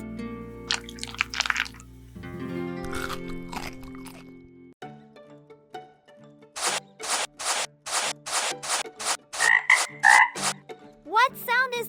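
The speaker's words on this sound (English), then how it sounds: "Aha, it's a frog." A frog croaks in a run of loud, evenly spaced pulses outdoors after some earlier clatter and tones, the calls repeating steadily near the microphone.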